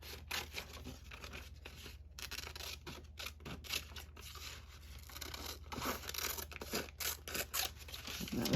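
Scissors snipping around a cutout in paper for a planner, quiet close crisp cuts and paper rustles in an irregular rhythm against a steady low hum.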